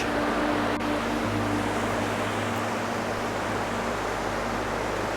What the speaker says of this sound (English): we get to hear the beautiful rushing waters of Rushing River